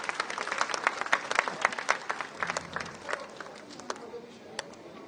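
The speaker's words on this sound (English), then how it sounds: "A huge round of applause for all these 3 Cyber ambassadors." Applause from an audience at a Telangana Police and school cyber-safety grand finale honours three student cyber ambassadors. The clapping is fairly faint and fades out over about five seconds.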